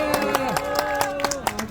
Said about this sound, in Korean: 우리 이서진 학생께 다시 한번 뜨거운 박수 부탁드리겠습니다.